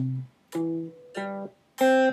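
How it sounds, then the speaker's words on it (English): Guitar notes of a melodic arpeggio sound one after another, four separate plucks with short gaps between them, each rising a little, clear and close with no talking. "A melodic arpeggio would sound like this."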